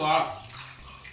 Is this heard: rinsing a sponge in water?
yes